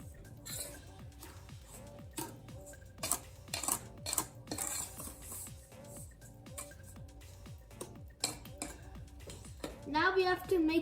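Cake batter of flour, baking soda and baking powder being whisked in a bowl for a chocolate cake, giving quick repeated scraping strokes with clinks of the whisk against the bowl. The sound is steady and close.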